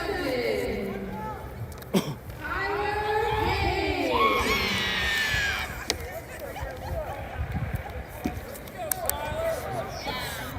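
Fans cheer and shout at a college baseball game between the Central Penn College Knights and Patrick Henry. The crowd noise swells and fades under near, steady commentator talk.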